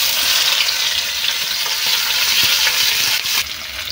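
Chopped onion and cumin seeds sizzle steadily in hot oil in a pan for a curry, a loud continuous broadband fry with a brief stir near the end and no voices.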